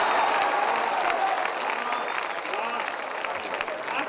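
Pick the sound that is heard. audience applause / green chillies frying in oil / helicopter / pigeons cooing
audience applause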